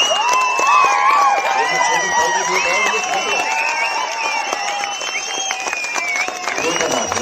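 A crowd at a statue unveiling breaks into loud applause mixed with cheering and shouting voices, a dense, sustained roar of clapping and calls.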